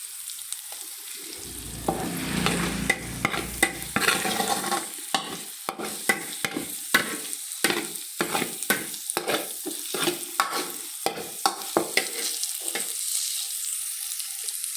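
A pan stir-fry is worked continuously until golden and fragrant, with a loud sizzle and rhythmic scraping strokes of a utensil against the metal repeating for the whole stretch. No one speaks.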